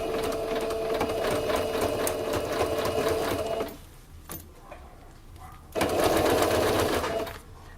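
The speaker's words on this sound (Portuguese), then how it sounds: "a minha costura eu vou passar bem aqui e a beiradinha do viés vai ficar bem rente à beiradinha da minha peça" A sewing machine stitches bias binding along the edge of a fabric piece in fast, steady bursts, stopping briefly mid-clip with a short mechanical click before running again.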